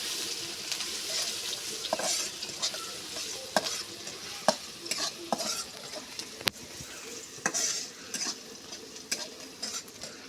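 Chopped onion frying in oil with bay leaves, cinnamon and cardamom gives a soft, steady sizzle, with scattered scrapes and taps from stirring rising above it, fairly quiet and close.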